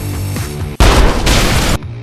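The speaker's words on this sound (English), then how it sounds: "Normally this is where I'd put an explosion jump scare just to mess with you" An explosion sound effect used as a jump scare bursts in suddenly, a loud, roaring blast lasting about a second before cutting off abruptly.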